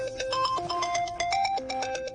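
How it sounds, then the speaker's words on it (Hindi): A phone ringtone plays a bright electronic melody of short stepped tones, loud and steady throughout with no one talking. "तेरा फोन बज रहा है।"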